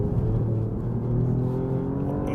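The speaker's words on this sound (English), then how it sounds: "It kind of creams the rear tyres and rotates slightly on the exit, but actually does find good drive." A 2024 Alfa Romeo Giulia Quadrifoglio accelerates hard out of a corner, its engine note rising loud and steady under full throttle.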